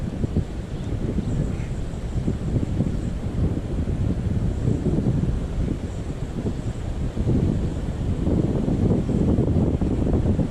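Steady wind buffets the microphone for the whole stretch at a fishing jig site, a loud, low rumbling roar that swells and eases with gusts, no voices.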